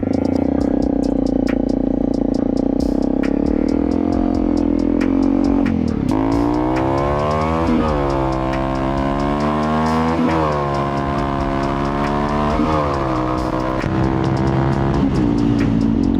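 A Honda CRF250L dual-sport motorcycle idling, then revving as it pulls away, the engine note rising and falling through several gear shifts, loud and close.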